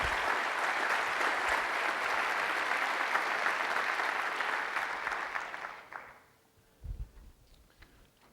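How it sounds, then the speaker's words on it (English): Audience at a school district State of the Schools event claps in a sustained, even round of applause that fades out after about six seconds, followed by a few low thumps. "Let's give Kelly a nice round of applause."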